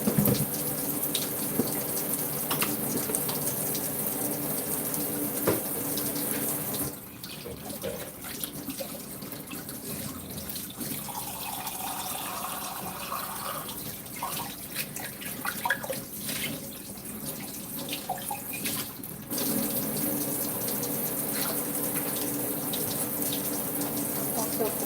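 A kitchen tap runs steadily while an eggplant is washed under it, a close, continuous hiss and splash with the stream changing briefly midway as the vegetable moves through the flow.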